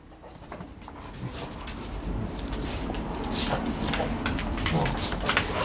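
Dogs scuffle nearby with panting, whimpers and short snarling bursts, getting louder and more agitated as it goes on.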